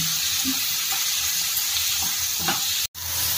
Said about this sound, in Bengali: আমি মশলাটাকে ভালো করে ভেজে নিচ্ছি